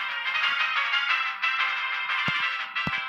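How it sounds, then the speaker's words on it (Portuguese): A WhatsApp notification rings out on a phone with a steady tonal chime, sounding twice in quick succession near the end over a constant bright hum of game music. "Esqueci de desativar as notificações do WhatsApp"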